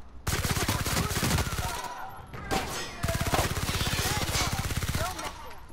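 Rapid bursts of automatic gunfire from a gun in The Outer Worlds, loud and continuous across two long volleys separated by a brief pause, with no talking over it.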